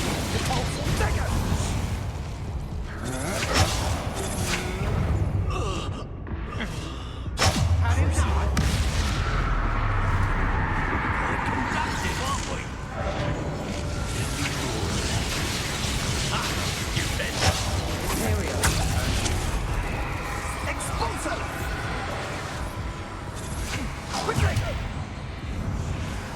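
Spell-casting combat in Hogwarts Legacy, with dense whooshes, blasts and crackling impacts firing in quick succession while a player shouts spell names over the continuous battle noise.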